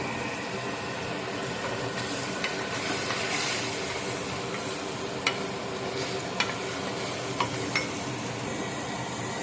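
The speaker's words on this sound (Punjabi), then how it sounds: "ਹਲਕਾ ਬਰਾਊਨ ਹੋਣ ਤੱਕ ਇਹਨੂੰ ਆਪਾਂ ਪਿਆਜ਼ ਨੂੰ ਭੁੰਨਾਂਗੇ" Chopped onions with a pinch of asafoetida browning in a pan for Punjabi dum aloo, giving a steady soft sizzle throughout with a few faint clicks of a spoon stirring, no voices.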